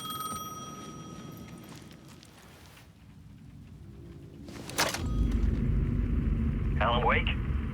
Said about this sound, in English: The payphone was ringing again.